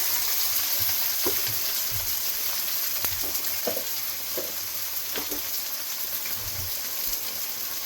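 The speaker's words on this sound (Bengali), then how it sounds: "পেঁয়াজটাকে ভেজে নেব।" Onions and green chillies fry in a pan for a Bengali bitter gourd dish, giving a soft steady sizzle with a few scattered stirring clicks, fairly quiet and without voices.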